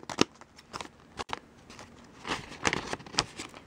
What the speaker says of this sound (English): Now what did I do with the scissors? And then you just trim it here.